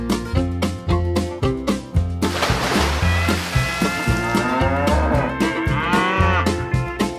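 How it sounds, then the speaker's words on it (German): A cow moos loudly over a bouncy musical backing, the low drawn-out call sitting in the middle of the tune. "Und auf der Farm, da gibt's ne Kuh"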